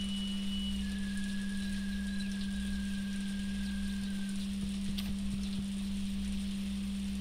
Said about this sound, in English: The rain's actually very peaceful.